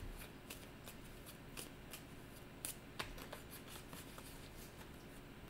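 Tarot cards being shuffled and handled, a steady soft riffling and flicking with occasional sharper snaps, close but quiet and with no voice over it.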